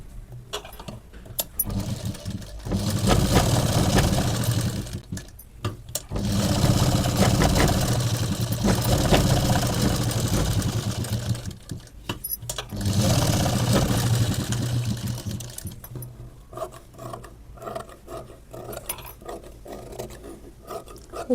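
A sewing machine runs in several bursts while stitching a blouse seam, a steady mechanical whir that starts and stops with short pauses between runs. It is fairly close and there is no talk over it.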